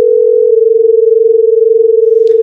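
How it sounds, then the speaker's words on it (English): Two close steady tones played together make a loud, sustained pulsing beat, the combined pitch swelling and fading at a regular rate, with a brief click near the end. "we get this weird beating effect"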